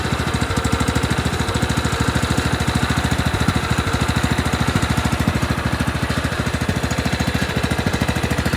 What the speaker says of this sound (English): I got it idling super good too.